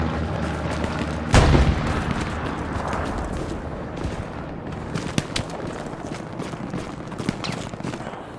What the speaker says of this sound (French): Ça tire du nord, en fait.